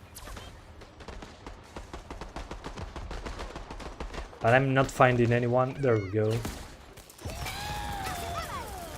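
Rapid gunfire in the game Worms Rumble, a fast stream of sharp shots running under someone talking, then a brief pause before more shots and game effects.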